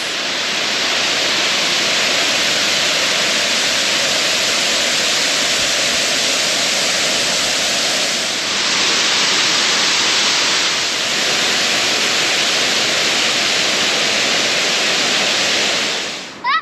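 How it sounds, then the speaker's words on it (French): The Los Alisos waterfall in Argentina roars steadily and loudly, a dense unbroken wash of falling water filling the whole clip with no voices. "on y est arrivé, cascade Los Alisos"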